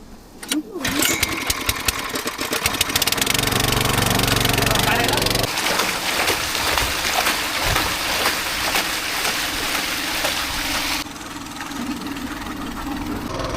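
Petrol-powered water pump engine beside a large, drying water pit, starting up and then running loudly and steadily with a sharp buzzing drone, while people talk over it.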